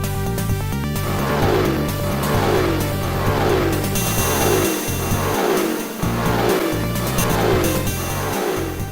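Kart engines race in the DOS game Wacky Wheels, a steady synthesized motor drone with repeating pitch sweeps over looping chiptune-style music, loud and continuous throughout.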